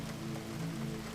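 Steady rain falls during a storm, a soft continuous patter with a faint low hum underneath and no other sounds.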